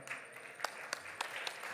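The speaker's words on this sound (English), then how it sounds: "They deserve an extra round of applause." Applause from an audience at a national gala comes as scattered, fairly faint claps that pop irregularly over a low room murmur.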